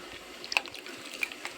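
Soaked tamarind squeezed by hand in a bowl of water gives a few soft, wet squelches and drips. They come as brief, faint bursts spread over the moment, with no talking.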